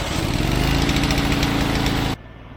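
A welder's engine warming up, running steady and loud up close with a rough mechanical drone, then suddenly dropping to a quieter idle near the end.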